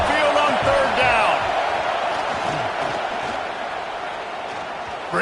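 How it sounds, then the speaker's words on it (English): A packed college football crowd at Saban Field, Alabama, roars on third down, a dense, sustained wall of cheering and noise, with a commentator's voice briefly over the start. "The Tide crowd rolling noise down onto Saban Field on third down."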